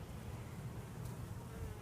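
Queen honeybee alone inside a small cork-stoppered cage, giving a steady, close, low droning buzz that holds evenly throughout with no talk over it.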